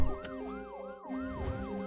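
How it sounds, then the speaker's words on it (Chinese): An ambulance siren wails in a repeating rise-and-fall pattern, steady and fairly loud, with a low vehicle rumble beneath it and a brief dip in the middle. "快叫救护车！"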